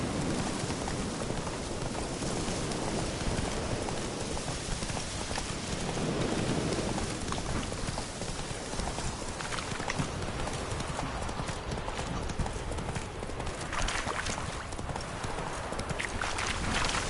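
Horse hooves gallop in The Witcher 3 on PS4, a steady rapid clip-clop running throughout, loud and continuous over a dense wash of game ambience and broadband noise.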